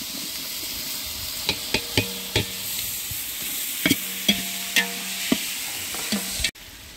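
Tomatoes fry with onion and ginger-garlic paste under a constant hiss, while a spatula knocks and scrapes the pan in a string of crisp, uneven taps, close and moderately loud, ending abruptly.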